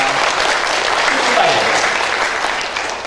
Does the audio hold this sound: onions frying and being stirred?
no